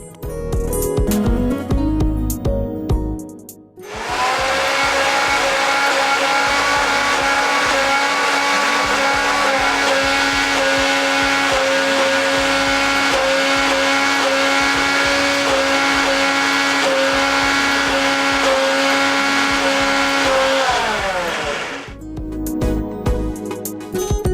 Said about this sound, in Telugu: మిక్సీ పట్టుకున్నాం కదా